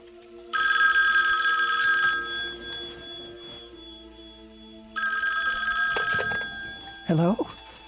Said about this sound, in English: Was that the phone?